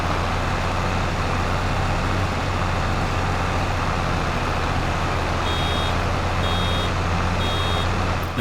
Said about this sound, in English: I get that audible alarm.